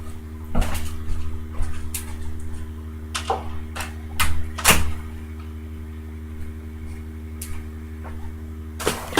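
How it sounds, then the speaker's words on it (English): A bedroom door is closed with a few short knocks and clicks of handling and latching, scattered over a steady low hum with no talking. "I'm just gonna close the door."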